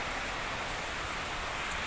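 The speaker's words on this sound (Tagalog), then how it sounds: "Umuulan pa sa amin." Rain falls in a dense, even hiss, close and continuous across the short stretch, with no voices over it.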